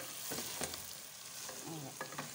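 Pieces of meat being stirred as they fry in a pan, a fairly quiet, continuous sizzle broken by a few soft scraping strokes.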